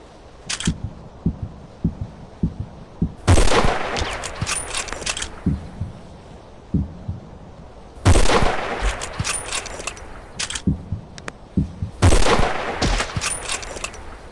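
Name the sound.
gunfire in a sniper shooting video game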